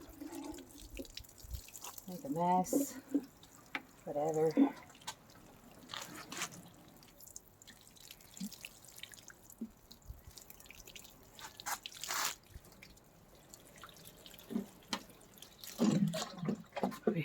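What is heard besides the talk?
watering small potted fuchsia plants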